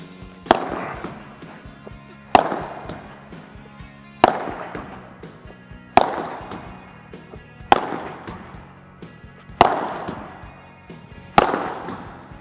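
A Tesla padel racket strikes a ball in repeated overhead shots, giving seven sharp, loud impacts at an even pace roughly two seconds apart, each ringing briefly before the next, with no talking.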